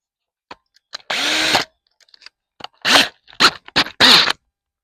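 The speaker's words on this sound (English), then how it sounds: "And I'm going to drill me these 4 holes." A power drill bores four holes in several short bursts close by, the first one longer, with small clicks and pauses in between.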